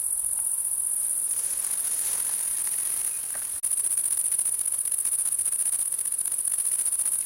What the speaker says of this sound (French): Est-ce la grande sauterelle verte? Tetigonia viridissima.